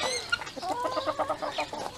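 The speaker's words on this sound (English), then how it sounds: "Them chickens are mouse getters." Chickens cluck in a quick, murmuring run of soft calls at a chick pen, close by and fairly quiet, with no talk over them.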